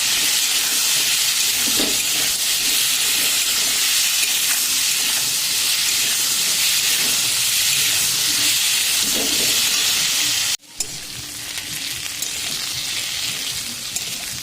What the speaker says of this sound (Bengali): আলুতে হলুদ মরিচ দিয়ে দিয়েছি, এবার আমি ভালো করে ভেজে নেবো